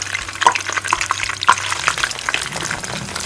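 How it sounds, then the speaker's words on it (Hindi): Pakoras sizzle and crackle in hot oil, a steady dense fry with scattered sharp pops and a few brief clinks, close and fairly loud throughout. "तो अब मैं इनको फ्राई कर लूँगी।"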